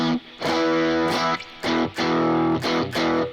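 Gritty overdriven electric guitar through a Sir Badger with mild distortion plays a few chords and single notes, loud and upfront, with echoing delay and reverb trailing after each phrase.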